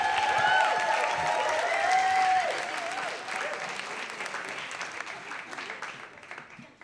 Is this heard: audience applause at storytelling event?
yes